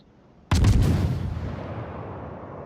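A ship's guns fire in a World of Warships naval battle: one sudden heavy boom-like salvo with a rapid cluster of blasts, then a long rumbling decay that fades slowly.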